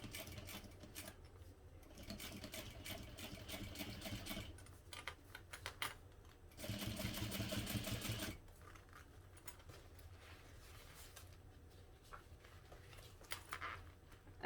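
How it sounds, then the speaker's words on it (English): A sewing machine stitches all-vinyl material on a reduced-size Tribbiani Traveler bag, back-stitching along a zipper with a lining, a steady close mechanical rattle in bursts with a louder, denser run in the middle. "back stitch just a few, and make sure you go in the same holes that you created with the first stitches"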